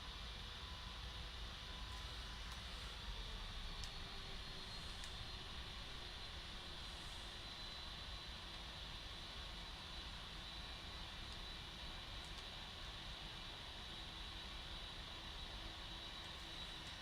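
Boeing 747 jet engines spool up for takeoff from runway 26 left in a flight simulator, a steady loud broadband roar with a constant whine that holds unchanged throughout.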